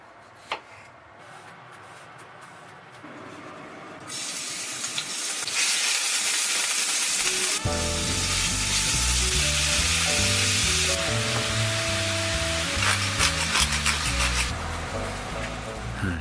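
Food sizzles and crackles loudly in a hot iron frying pan, starting quiet then building to a steady, dense frying hiss with occasional clinks.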